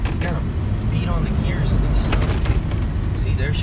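Pickup truck engine revving hard in bursts while tires spin and then catch traction, loud and close, with someone talking over it.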